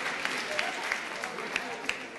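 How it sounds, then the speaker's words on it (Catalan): An audience applauds during a Catalan spelling game show, a steady wash of clapping with a few sharper individual claps standing out, while voices talk over it. "Fora aplaudiment, no?"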